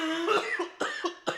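A harsh coughing fit, about four rough coughs in quick succession, close up.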